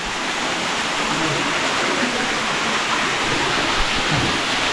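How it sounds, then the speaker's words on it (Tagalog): River water flowing steadily in a rural countryside setting, a broad continuous rushing wash close by with no pauses, loud and uniform. "Dito kami ngayon sa ilog."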